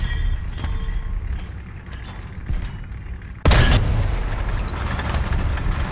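Sherman III/IV tank main gun firing in the video game War Thunder, one sudden loud blast with a rolling echo after quieter engine and battlefield sounds, then a sustained rumble.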